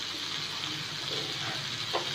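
Fish frying on a flat tawa griddle, a steady soft sizzle with faint crackles throughout, low and close, no voices over it.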